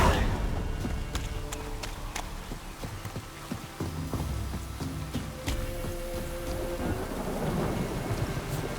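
A thunderstorm with rain in the video game The Witcher 3: steady rainfall patters throughout while several sharp cracks and rolling rumbles of thunder break in, loud and close, with no talk.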